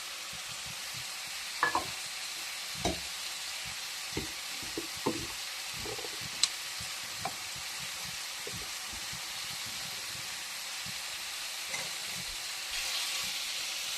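A pot of nellikai (gooseberry) rasam simmers on a gas stove, giving a steady soft hiss with scattered small pops and knocks, close and quiet, with no talk.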